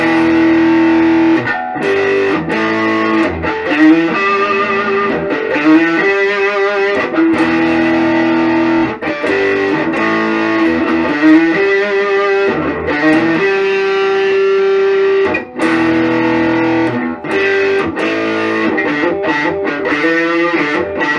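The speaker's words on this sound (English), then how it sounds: "And now put on some distortion. And we'll play all the pickup settings." Distorted electric guitar, a PRS SE Swamp Ash Sandblasted CE 24, played through its pickup settings: loud, saturated sustained notes and riffs with brief pauses, continuous for about twenty seconds with no talking.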